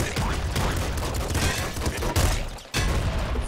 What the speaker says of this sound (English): And I always blow up the corpses right before I leave.